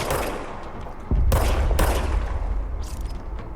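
Gunfire in the video game Control comes in rapid bursts, a loud close volley after a quieter opening stretch, with sharp repeated cracks over a rumbling low end.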